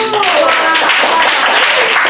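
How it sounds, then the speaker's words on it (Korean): Middle school students in a home economics class break into loud, close applause, many hands clapping in a dense continuous burst with some voices mixed in. "얘들아 박수!"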